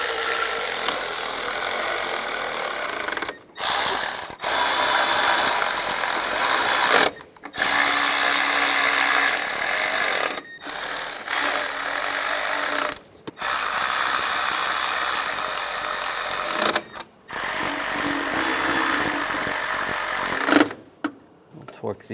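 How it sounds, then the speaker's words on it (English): A power tool runs in long bursts with short pauses between them while the valve cover nuts on a 1996-2002 Toyota 4Runner are snugged down, the whirring loud and close, with voices underneath. "And the 2 nuts on the studs. Yep, snug those down."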